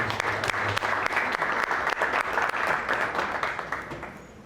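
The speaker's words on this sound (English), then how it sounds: "So just let's give a round of applause to all of our supporters." A panel audience at a Connecticut manufacturing and business school event gives its supporters a full round of applause, with dense, even clapping that holds steady and then tapers off toward the end.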